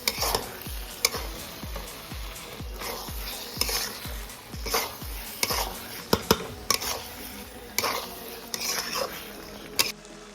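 Masala for crab curry frying in oil while a metal spoon scrapes and clatters against the pan in a repeated stirring rhythm, over a continuous close sizzle.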